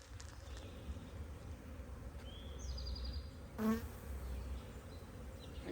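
Honeybees in an open hive with many drones among them, a steady low buzzing swarm heard close by, with a brief louder buzz as one bee passes near and faint higher chirps above the drone; no talking.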